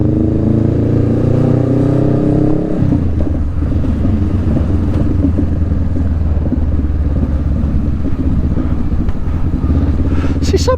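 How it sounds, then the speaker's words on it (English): A Honda Rebel 500 with a Vance & Hines exhaust burbles loudly and continuously up close, with a deep engine note that shifts after a few seconds and scattered pops and crackles. "See, sometimes it's quite aggressive popping, and then other times it's not. But it is loud."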